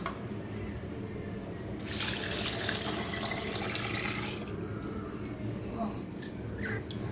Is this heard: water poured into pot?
yes